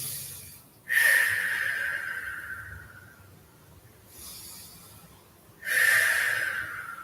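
Slow audible breathing held in a yoga pose, airy hissing inhales and exhales rising and fading in long cycles, close and alone with no talking.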